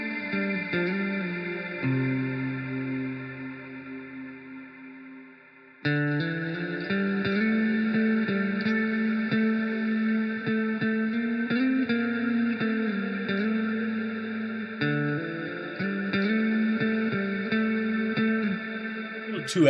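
A synth plugin plays sustained, lush chords run through delay effects, with echoing tails and a brief drop before the pad swells back in loud and steady.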